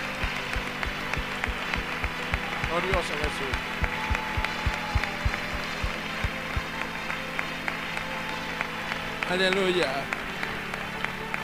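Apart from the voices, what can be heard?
congregation applauding in church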